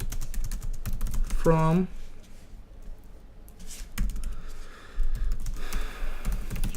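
Computer keyboard typing clicks away in short bursts while someone talks over them, tapping moderately close with pauses between runs of keystrokes.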